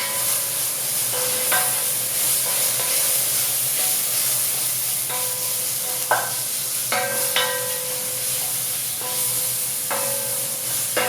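Minced garlic sautéing in a pan for a spinach cauliflower curry gives a steady, even sizzle, with a few brief scraping stir strokes and light clinks scattered across it and no voices.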